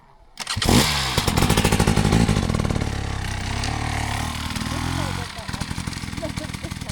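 Enduro dirt bike engine revving up sharply with added throttle, then holding a loud, rough mid-pitched drone before dropping back to a pulsing idle, close by at an outdoor riding skills session, with voices faintly under it.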